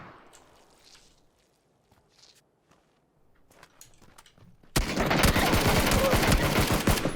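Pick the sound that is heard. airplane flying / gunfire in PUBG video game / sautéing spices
gunfire in PUBG video game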